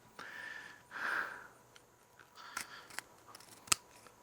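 Chestnuts are sliced with a knife in a few separate cuts, short crisp snips and taps close up against a quiet background.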